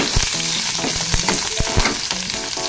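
Garlic sizzles in hot oil in a pan, a steady crackling hiss broken by several sharp clinks of a utensil striking the pan, close and fairly loud with no talk.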